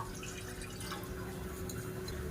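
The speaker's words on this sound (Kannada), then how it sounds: "ನಾನಿಲ್ಲಿ ಈ ಲೋಟದಲ್ಲಿ ಮುಕ್ಕಾಲು ಕಪ್ಪಷ್ಟು ನೀರನ್ನ ಇದರೊಳಗೆ ಹಾಕೊಳ್ತಿದ್ದೀನಿ" About three-quarters of a cup of water is poured from a tumbler into a small cooking pot, a soft continuous trickle and splash heard faintly and steadily alone.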